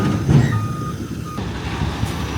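A dump truck reverses on a home foundation excavation site to drop off sand, its reversing alarm beeping steadily over a loud, continuous engine rumble.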